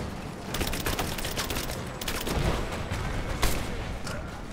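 Rapid bursts of gunfire in Rise of the Tomb Raider crackle in close succession, sharp overlapping shots with a few heavier booms and no talking.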